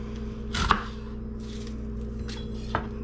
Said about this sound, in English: So you're going to cut them in half.